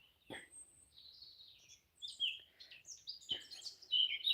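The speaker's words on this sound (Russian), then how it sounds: "Ой, ну так громко, птички" Birdsong in a German forest: several birds chirp and trill in overlapping bursts at moderate to high pitch, growing busier and louder toward the end, with two sharp low thumps in between.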